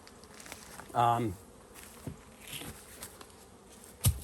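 Honey bees hum in a brief, close buzz as one passes near, then fade to a faint drone with a few soft taps and knocks from hive work.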